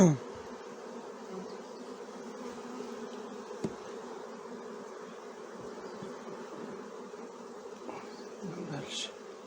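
Honey bees drone in a dense, continuous buzz around an open frame pulled from a Ukrainian-frame hive in mid-May, with a soft, even hum and brief passes of single insects.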